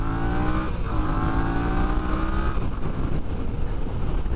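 A Yamaha XS650 motorcycle accelerates hard in first gear while lifting into a wheelie, its engine revving steadily upward in a loud, rising snarl that stays close and constant throughout, with no speech.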